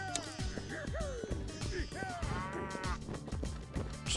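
A holy cow in the game Sąsiedzi z Piekła Rodem (Neighbours from Hell) gives several loud, drawn-out moos with a game soundtrack and effects playing beneath.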